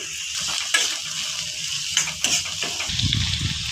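Onion and curry leaves fry in oil with roasted peanuts in a pan, giving a steady close sizzle broken by a few sharp stirring clinks and scrapes, with a deeper rumble of frying near the end.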